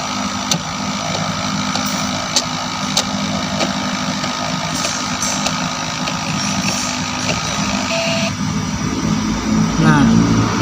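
A car's EFI engine idles through a tune-up in a workshop, a steady continuous drone under faint background talk.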